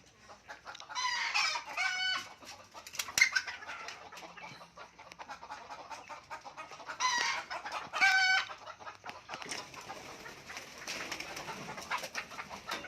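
A brooding hen clucks near a chicken coop holding eggs. Two clear bursts of close, moderately loud calls repeat over a faint rustling background, with no talk.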